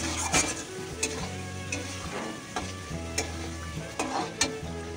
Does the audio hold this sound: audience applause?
no